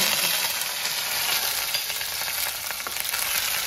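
Curry leaves and vadagam crackle and sizzle steadily in hot oil, a dense, bright frying hiss with small pops, close and continuous with no talk.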